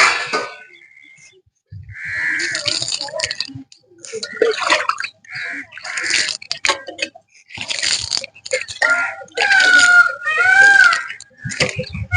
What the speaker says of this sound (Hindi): बाबा फूकने को धो रहे हैं, इससे चूल्हे में फूक देते हैं।